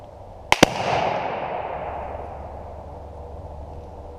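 A single muzzleloader rifle shot, fired while sighting in a scope, cracks sharply at close range and leaves a rumbling echo that fades over several seconds.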